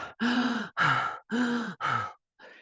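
A voice imitates heavy, angry breathing: four forceful, rhythmic breaths in close succession, each loud and rasping with short silent gaps, then a fainter fifth breath trailing off.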